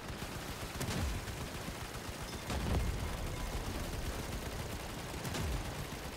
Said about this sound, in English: We shot the barrel, got 300 damage.